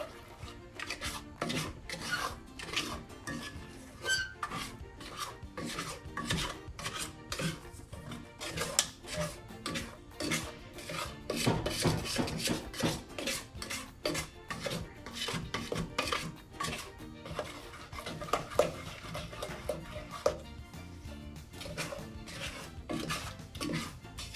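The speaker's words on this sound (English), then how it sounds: "so we have to stir and stir and stir" Thick lavender playdough mixture being stirred and stirred in a pot, a continuous close scraping and rubbing of the utensil against the pan that keeps going without speech.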